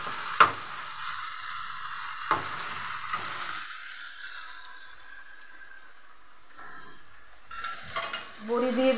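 Okra frying in a pan while being stirred, a steady close sizzle with scraping spatula knocks and small clatters, growing busier toward the end, no talking.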